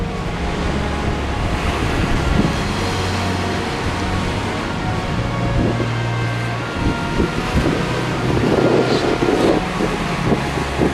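Steady wash of ocean surf at a beach below a cliff in the eastern USA, with gusty wind buffeting the microphone, loud and continuous with no voices.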